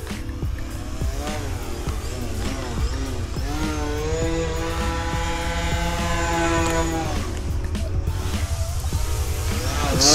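An E-flite Turbo Timber X RC plane flies with its electric motor whining loudly and steadily, the pitch sliding up and down as it manoeuvres, with no talk.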